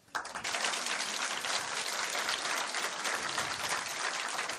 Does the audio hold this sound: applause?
yes